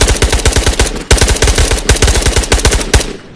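Rapid video game gunfire, dense bursts of automatic shots fired in quick succession with a few brief pauses, loud and close throughout.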